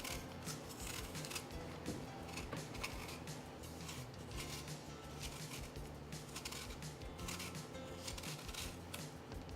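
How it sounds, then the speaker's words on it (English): Soft Mac and Cortland apples are peeled up close, giving a quiet, continuous, fine scraping and snipping texture that runs throughout without any talk. "So I'm going to start by peeling them."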